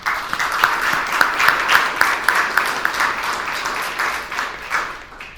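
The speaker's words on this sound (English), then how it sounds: "I'd like to give them a round of applause once again" An audience at a University of Maryland student recognition celebration applauds support staff, many hands clapping steadily with individual claps audible in the mix, loud and close throughout.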